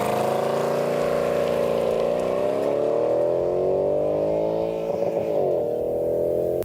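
A Mercedes-Benz SL 63 AMG's naturally aspirated all-aluminium V8 holds a steady, loud, rich drone, its pitch sliding slightly up and down as it revs, close and continuous throughout.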